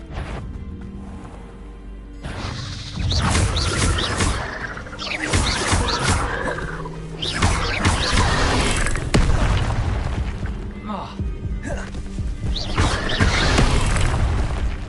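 Incendio fire spells cast in a Harry Potter video game, loud booming blasts and crackling bursts piling up one after another over a busy game soundscape.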